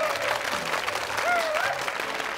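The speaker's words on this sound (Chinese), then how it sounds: "所以大家给一个热烈的掌声好不好？" Audience applause at a charity auction, dense steady clapping from a crowd throughout, with a voice briefly heard over it.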